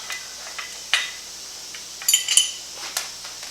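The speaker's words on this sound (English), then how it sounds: "And as always, you got to drop at least one bolt" A metal bolt drops and clinks while Ohlins bagger suspension brackets are being fitted, a few sharp light metallic ticks and rattles in an otherwise quiet workspace, the loudest cluster bunched together near the middle.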